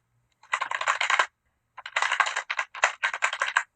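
Rapid clacking of keys on a computer keyboard in two bursts separated by a short pause, close and fairly loud.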